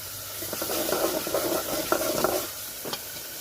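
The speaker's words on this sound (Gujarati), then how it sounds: "આપણે એને એમને એમ ફેરવતા રહીશું ને તેલ આપણું ઉપર આવી જાય ને ત્યાં સુધી મસાલાને સારી રીતે પાકવા દેશું" Masala being stirred as it fries in oil for a Gujarati dhokli curry, a steady close sizzle broken by repeated scraping and clattering strokes, with no talk.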